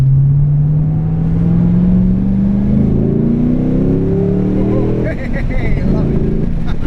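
A Ford Mustang engine revs as the car drives on a sunny morning, the pitch climbing steadily through a gear before easing off, loud and close, with a person talking over it.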